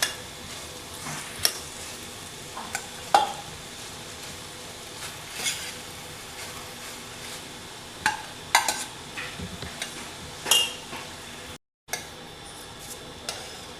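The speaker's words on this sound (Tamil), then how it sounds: "வேக வச்சு அந்த பாஸ்மதி ரைஸை போட்டு கிண்டிடுவோம்" Cooked basmati rice is stirred into a mushroom fry in a pan for spicy mushroom fried rice, with scattered scrapes and taps of the spoon against the metal over a faint sizzle, occasional louder clinks.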